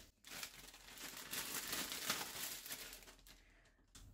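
Plastic bag crinkling and rustling as it is handled in a home kitchen while preparing pomegranate seeds, a steady close-up crackle lasting several seconds with no talking.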